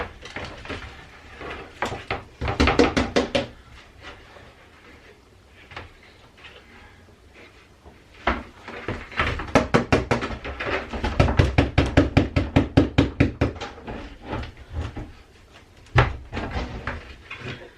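Rapid bursts of light tapping as a lid is knocked against a plastic seed tray to shake loose dirt back in, coming in several clustered runs with pauses between, close and fairly crisp.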